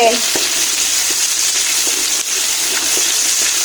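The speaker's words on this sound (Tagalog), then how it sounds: "igigisa na natin yung ating manok" Chicken sizzling and frying in a pan as it is sautéed with white and red onions for pancit bihon and canton, a steady loud hiss with faint stirring clicks throughout.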